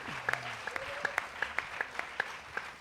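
Sparse, individual hand claps from a studio audience at a Turkish Popstar televised singing competition, a dozen or so distinct claps spaced irregularly over a soft background with a brief tone, fairly faint and without a full ovation.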